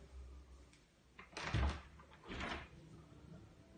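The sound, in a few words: balcony door being opened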